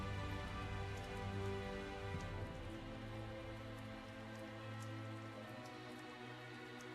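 Night rain in the Tales of Zestiria video game, a soft, steady patter of raindrops on surfaces over a low, sustained background hum.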